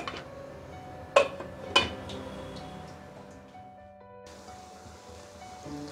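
A lid is set onto a cooking pot of simmering taro, giving two sharp metallic clinks about half a second apart over a low, steady kitchen background.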